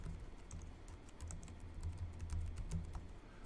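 Someone types quietly on a computer keyboard while entering code, a rapid run of soft, close key clicks with no talking.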